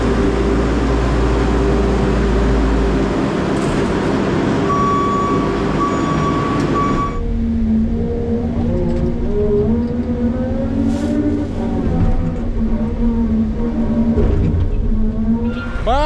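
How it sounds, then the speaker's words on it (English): A farm truck backs up with steady reversing beeps, then its engine rises and pulls away, the rumble and whine shifting as it moves off. "I gotta get this truck out of the way though."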